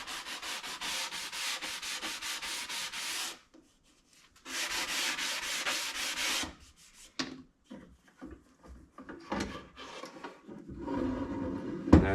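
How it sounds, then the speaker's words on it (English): A foam sanding block rubs along the edge of a walnut workpiece in two long bursts of rapid back-and-forth strokes, then shorter scattered scrapes and handling noises in a quiet room. "Then I take a foam sanding block and just break the edge so it's not razor sharp."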